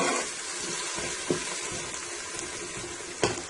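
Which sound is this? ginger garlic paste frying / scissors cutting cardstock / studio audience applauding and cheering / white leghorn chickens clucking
ginger garlic paste frying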